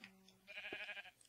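A sheep bleats in the video game Minecraft, one clear, wavering bleat rising in the middle and standing alone against a quiet, faint background.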